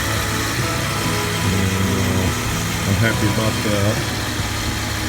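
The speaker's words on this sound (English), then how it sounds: "Changing out those 2 pulleys definitely made a difference in engine noise" A Jeep WJ with the 4.0 engine idles steadily after new pulleys were fitted, a smooth mid-pitched hum running the whole time while someone talks over it.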